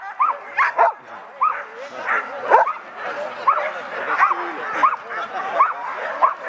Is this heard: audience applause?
no